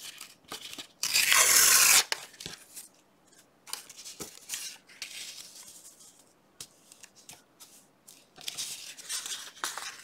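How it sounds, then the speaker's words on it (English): Paper is torn from a circle cutout close by, a loud rough rip followed by a run of smaller crisp tears, snips and rustles with brief pauses between them. "I guess if I tear off some of that circle, it's not that big of a deal."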